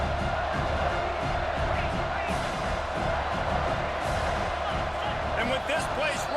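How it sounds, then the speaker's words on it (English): A stadium crowd at a college football game between SC and MIA roars loudly and continuously, with whistles and shouts mixed into the dense cheering noise throughout. "with this place rocking, the crowd forces a false start."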